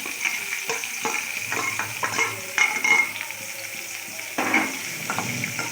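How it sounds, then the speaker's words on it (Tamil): Onions sautéing in a pan with chillies, chana dal and urad dal for ragi upma, giving a steady close sizzle broken by repeated stirring scrapes and light clinks of utensil against the pan, with no talking. "வெங்காயத்தை சேர்த்தாச்சு. வெங்காயம் கொஞ்சம் நல்லா வதங்கணும்."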